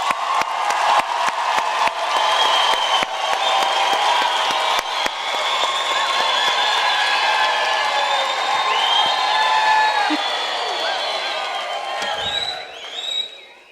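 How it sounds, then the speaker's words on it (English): Sustained applause with cheering and whoops from a large crowd at a university autumn graduation ceremony, loud and continuous for the full stretch, tapering off near the end as a voice breaks in. "let's give them a round of applause"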